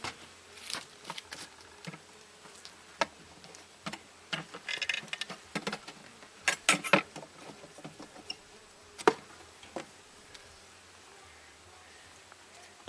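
Honeybees buzz faintly around an open hive during a fall inspection, mixed with frequent sharp clicks and scrapes from frames being handled.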